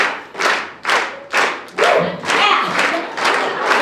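Audience clapping at a charity gala, arriving in short repeated bursts of applause about every half second, loud and close, with brief gaps between bursts.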